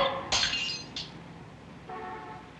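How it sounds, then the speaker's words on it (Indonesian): Glass breaking in a scene from the film Rear Window: a sharp crash with bright shattering fragments, a second smaller clink just after, then a faint ringing tone fading in the background; no voices. "Suatu malam, Jeff dengar ada suara perempuan yang teriak lalu ada suara gelas pecah"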